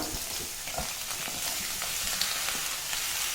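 Pieces of plantain, drumstick and ash gourd hit hot oil for avial, giving a steady, close, loud frying sizzle with light stirring clatter, no voices.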